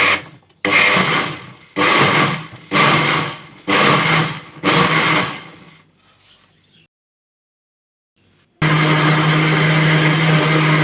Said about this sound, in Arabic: وهنا حطيت كل المكونات اهي في الخلاط زي ما انتم شايفين، وهنضربه